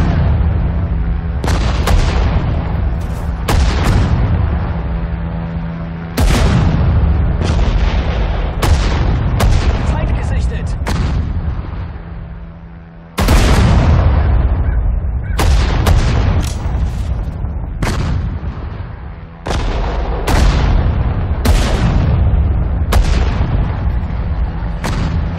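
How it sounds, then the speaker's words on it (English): Artillery guns fire again and again in a World War II strategy game set in the Battle of the Bulge. Loud booming shots arrive every couple of seconds and each decays with a sharp crack, sometimes in close pairs. "Fire the gun!"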